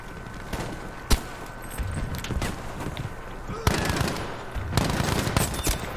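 Bursts of Bradia M1935PG gunfire in a Battlefield V match, sharp cracks and short rattling volleys spaced through a busy battlefield din, loud and close, with a voice talking over parts of it.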